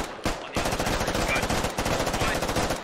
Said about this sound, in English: Grunt taking some shots at Garrett here